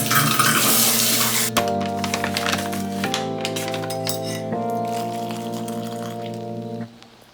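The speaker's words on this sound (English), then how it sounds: "so I'm going to shower" Running water from a shower or tap, a steady rushing spray heard up close with a few clinks, while a sustained droning tone sits underneath before it fades out at the end.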